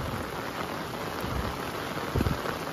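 Heavy rain pours over a mountain village, a dense, even hiss of drops with a few heavier spatters near the end, steady and enveloping with no voices.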